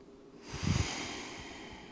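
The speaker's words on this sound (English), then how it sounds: "We'll take one final breath." A single deep, slow breath taken during a gentle prenatal hip stretch, audible as a soft close inhale swelling into a long airy exhale in a quiet room.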